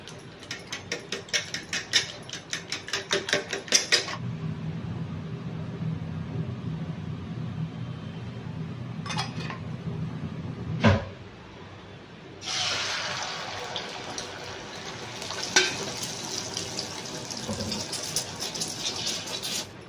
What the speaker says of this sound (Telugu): ఇప్పుడు ఇదంతా మనం మిక్స్ చేసుకుందాం.